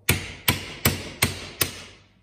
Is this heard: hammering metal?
yes